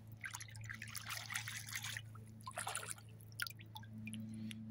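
Seashells from the seashore being rinsed under trickling seawater, with irregular splashing and dribbling bursts over a steady low hum, close by with no talk.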